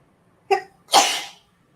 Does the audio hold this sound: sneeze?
yes